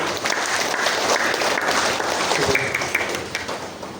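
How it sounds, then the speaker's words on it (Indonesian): A church congregation claps for God after a sermon, a dense, steady wash of applause from many hands filling the room for about four seconds, with a faint voice briefly audible. "Tepuk tangan untuk Tuhan."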